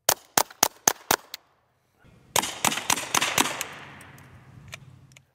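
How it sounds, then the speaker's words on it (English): Rifle shots of CCI Mini-Mag rounds fired into an iMac: several sharp, loud cracks in quick succession, then a short pause and another rapid volley with rattling debris and a lingering, fading tail. "So we're gonna put 5 rounds into it."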